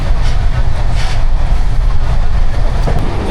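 Moving passenger train on a journey toward Puri, a loud, continuous rumble and clatter of wheels on rails heard from inside the carriage, with no talk.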